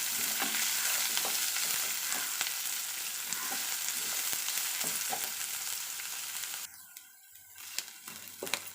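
Garlic, curry leaves and onion fry in oil for an okra stir-fry, a close, steady hissing sizzle with light stirring scrapes that suddenly drops away near the end, leaving a few faint clinks.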